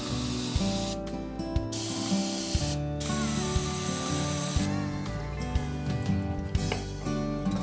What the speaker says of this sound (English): we'll get some brake clean and we'll squirt off the